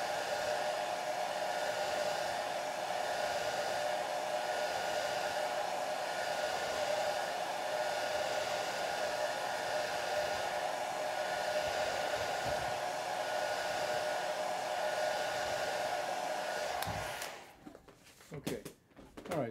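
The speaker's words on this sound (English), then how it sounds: "I'm gonna dry this mix up here. So I'm drying the paint out." A hair dryer runs steadily, drying watercolor paint mixed on a landscape painting, a constant loud blowing hum that cuts off near the end, leaving faint handling noises.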